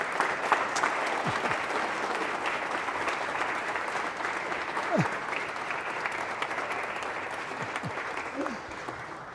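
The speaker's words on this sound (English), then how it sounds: "Please, can I have your applause for Theodore" Sustained audience applause at a Yom Hashoah event honoring Ted Comet, a steady wash of many hands clapping in a hall, fairly even in loudness throughout with faint voices underneath.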